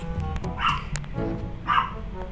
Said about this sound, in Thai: ขอไปเสียงหมาที่บ้านด้วยนะ